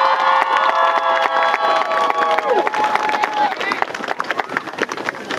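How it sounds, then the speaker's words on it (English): A crowd at an outdoor state championship parade and ceremony claps and cheers loudly for a high school football coaching staff, with shouts and whoops over dense applause and a sustained tone fading out partway through. "Let's give them an applause."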